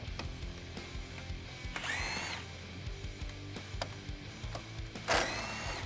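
A hand ratchet works 10mm grille bolts loose on a 2015-2017 Ford F150 pickup. Steady rapid metallic clicking runs throughout, broken by two brighter rasping bursts as the tool swings back, close and clear with no talking.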